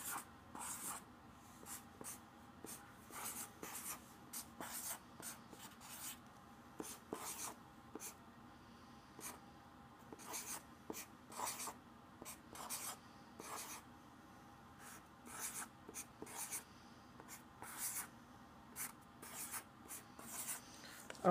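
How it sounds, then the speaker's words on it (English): A pen draws a diagram on paper, making repeated quiet scratchy strokes in an uneven rhythm, close and alone with no voices. "I'm just going to draw a bunch of people under me."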